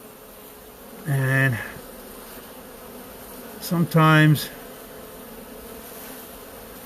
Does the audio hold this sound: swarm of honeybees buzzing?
yes